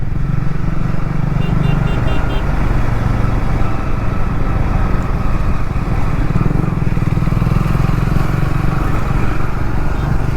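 KTM 390 motorcycles riding fast in a group ride, with one popping wheelies: a continuous loud engine roar and wind rush that hold steady throughout, close to the rider.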